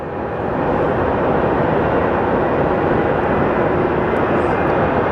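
A CRJ regional jet taxis at Sky Harbor Airport, a loud, steady broadband engine roar that holds constant throughout without voices.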